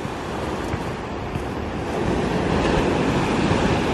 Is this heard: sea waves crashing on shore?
yes